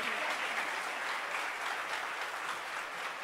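Audience applause for a singer at a national English-language singing and spelling festival, a steady dense wash of many hands clapping throughout, moderately loud and even, with no voices over it.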